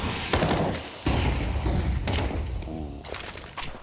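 Grenade and gunfire exchange in a Counter-Strike match, several sharp thuds and bursts of shots spread across a few seconds amid game ambience, fairly loud and close.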